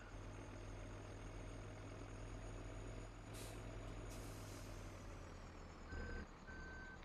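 A truck in Farming Simulator 2013 idles with a steady low engine drone, then gives two short electronic reversing beeps near the end, preceded by brief hissing bursts.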